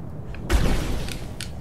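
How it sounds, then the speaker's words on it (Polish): A single muffled boom from an explosion in the video game Alice: Madness Returns, followed by a brief low rumble and a couple of faint clicks. "Co tam wybuchło?"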